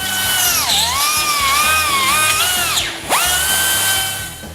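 A power tool, such as a rotary cutter, cuts through a truck's grille shell, whining loudly with shifting pitch and briefly dropping away near the end before spinning back up, no voices.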